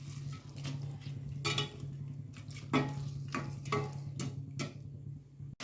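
Yogurt being stirred into chili masala in a pan for prawn biryani, giving soft scraping and clinking strokes in an uneven rhythm over a low steady hum, close by with no talk.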